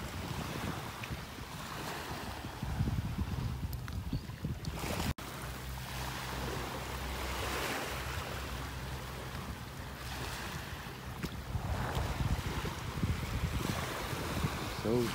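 Ocean waves roll onto a beach in North Naples, Florida, during a red tide, breaking in gentle surges under gusts of wind buffeting the microphone.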